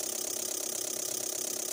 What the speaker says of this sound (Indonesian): jadi extra fan-nya berfungsi ya Pak ya